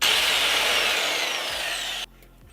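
An impact wrench loosening the ignition nut on a KTM engine: a loud, continuous whirring rattle lasting about two seconds, then stopping abruptly into quiet.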